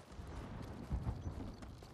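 Horse hooves clip-clop in Ghost of Tsushima, a rhythmic run of soft thuds at moderate distance with a slightly louder cluster of steps midway, over a steady low background rumble.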